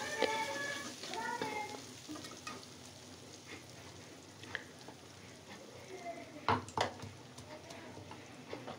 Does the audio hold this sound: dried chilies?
yes